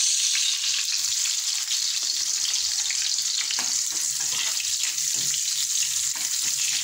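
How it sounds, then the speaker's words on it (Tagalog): Garlic and onion sizzling in hot oil in a pan for a beef kaldereta, a continuous bright crackling fry with faint stirring and scraping underneath, close and steady. "Lagyan natin ng bawang. Tapos pinagdaman natin ng sibuyas."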